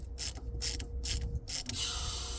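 A 1/4 inch socket ratchets in quick clicking bursts to loosen the hydraulic valve on an HWH RV slideout system, followed by a steady hiss as pressure releases.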